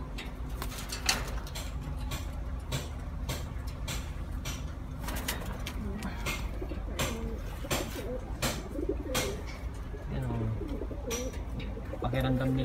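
Racing pigeons coo softly in their coop, with repeated low cooing calls running under steady background noise and occasional clatter.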